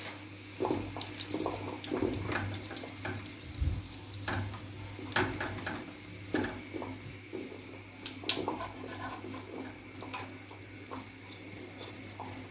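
Spoon-dropped batter börek frying in a pan, cooked on both sides: a steady soft sizzle runs throughout, punctuated by small clicks and stirring taps from a utensil.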